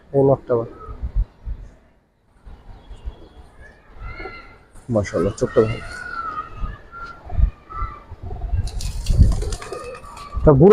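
Giribaz pigeons coo in soft, repeated bursts close by, mixed with people talking over and between the calls.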